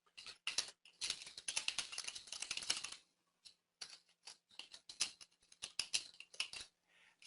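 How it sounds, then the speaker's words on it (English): Fast, irregular clatter of keys tapped on a keyboard in bursts, with a dense run in the first three seconds and then scattered clicks and short flurries, heard close and alone with no talking. "Somebody is typing"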